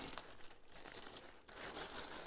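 Plastic parcel packaging of an AliExpress order of fishing gear crinkles and rustles up close during unpacking, in continuous soft crackling handling with a brief pause midway.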